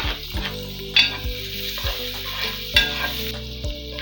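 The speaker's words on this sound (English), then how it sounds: "So I'm going to fry this for a few minutes." Onion frying in oil for a chicken curry sauce, with a steady close sizzle broken by a few sharp scrapes and taps of a spoon against the pan.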